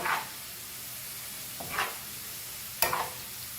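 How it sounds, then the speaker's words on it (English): Potatoes go into a frying pan with a soft ongoing hiss, broken by three brief louder sizzling bursts spaced a second or so apart. "And now we will fry our potato."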